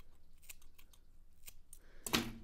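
Scissors snipping human hair bristle tips to trim a handmade watercolor brush, several small close crisp cuts followed by one louder, fuller snip near the end, in a quiet room.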